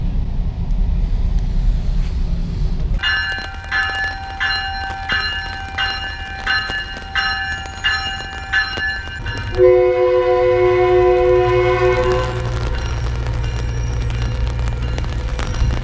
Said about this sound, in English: and that is a train in the rain